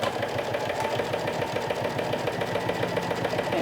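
A sewing machine stitches piping for a bucket hat, running over a cord, with a steady mechanical rhythm of close, even needle strokes and motor hum that continues throughout.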